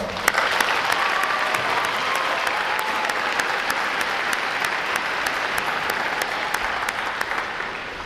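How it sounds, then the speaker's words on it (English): Steady applause from a large audience at a Navy recruit training graduation ceremony at Great Lakes, a dense even wash of many hands clapping that holds for several seconds and then begins to thin toward the end. "Let's give them a quick round of applause"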